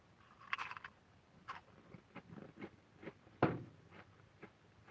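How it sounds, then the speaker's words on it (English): Pringles potato chips of assorted flavors being bitten and chewed up close, giving a handful of separate, moderately loud crisp crunches spread irregularly across a quiet background with no talking. "Okay, it's got a crunch to it. You can hear it, but it's not a solid crunch like I remember them having."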